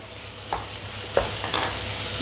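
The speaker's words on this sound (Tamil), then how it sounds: "லேசாக வதக்கி விட்டுருக்கலாம். பன்னீர் வதங்கிடுச்சு." Grated paneer and vegetables sautéing in a pan, a close frying sizzle broken by several quick scraping stirs of a spoon across the pan.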